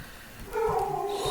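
A cartoon cat meow plays as a sound effect in the Poke the Pig game, one short tonal cry lasting about a second, clear and alone.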